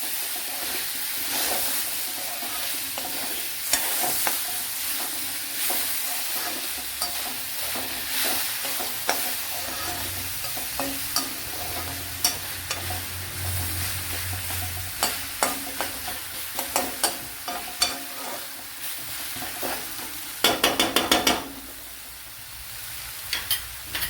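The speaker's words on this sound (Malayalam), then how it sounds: "ഇതൊന്ന് വഴട്ടിയെടുക്കാം." Tomato pieces and brinjal sauté in a hot pan for a Kerala curry, with a steady sizzle and frequent stirring clinks and scrapes that grow busier toward the end.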